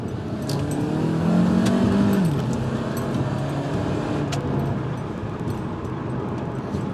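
A 2008 Honda Element SC accelerates hard through a first-gear corner with the pedal nearly floored, its engine drone climbing steadily in pitch, loud and close, with cabin road noise throughout and no talking.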